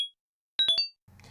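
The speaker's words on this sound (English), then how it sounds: "here's an actual menu sound effect" A short Yume Nikki video game menu sound effect: a quick run of three bright, chiming blips at normal speed, clean and alone, followed by a faint low murmur at the end.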